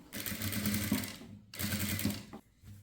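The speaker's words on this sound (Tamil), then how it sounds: "இந்த லைனிங் மேலே ஓரமாக ஒரு தையல் போடணும்" An electric sewing machine stitches a blouse lining in two close, steady bursts of rapid mechanical whirring, separated by a brief pause.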